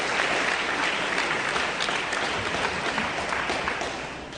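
Dense, steady applause from a banquet audience at the 138th Milton-Union alumni dinner fills the room, loud and continuous before easing off slightly at the end.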